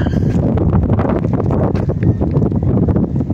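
Strong wind buffets the microphone in a steady, loud roar during rainy, stormy weather near rough water, a dense continuous rush with no clear breaks.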